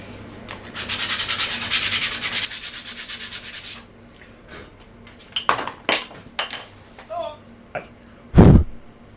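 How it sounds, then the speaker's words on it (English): Sandpaper rubbing on wood for a DIY custom craft knife, a rapid rhythmic rasping close up for a few seconds, followed by scattered knocks and clatter of handling. "now we just need to sand it better with sandpaper"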